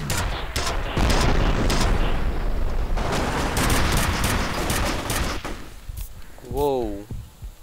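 Rapid gunfire from a weapon in the shooter game F.E.A.R., dense repeated shots filling several seconds before breaking off, followed by a brief warbling sound.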